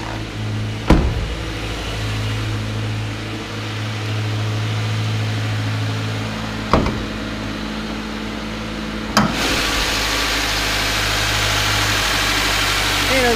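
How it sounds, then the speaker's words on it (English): Idling 2-liter boxer engine of a used Subaru Impreza heard with the hood open, a steady low hum running throughout, broken by a few sharp knocks and a brighter rise in noise near the end. "Boxer engine. One set of pistons facing one way, one set of pistons facing the other way."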